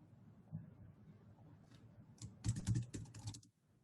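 Computer keyboard typing into a resume-scanning web form, a quiet run of soft keystrokes building to a denser burst of clicks near the end.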